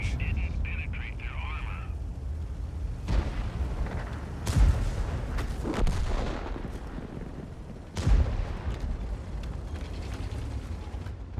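Tank cannon shots in a tank video game, heard as several heavy booms spaced a few seconds apart over a constant rumbling battle backdrop, with a commentator talking throughout.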